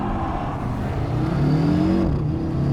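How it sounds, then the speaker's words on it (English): A 2020 Audi RSQ3 Sportback engine revs hard and climbs in pitch, dips briefly as it shifts through first, second and third gears, then pulls up again; loud, close and steady, with no talking. "it sounds really good between first, second and third gears"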